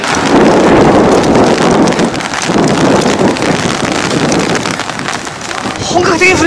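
Heavy rain breaks out on a trip in Hakone, a loud, dense steady hiss of downpour mixed with wind buffeting the microphone, continuous throughout.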